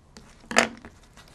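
A single close snip of scissors cutting through material, a short crisp burst with a few faint rustles around it.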